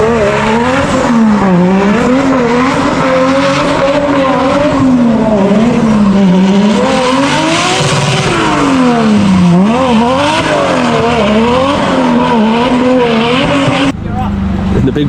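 Cars drifting in tandem, engines wailing and rising and falling in pitch along with long tire squeal, loud and continuous for the whole stretch, with voices talking underneath.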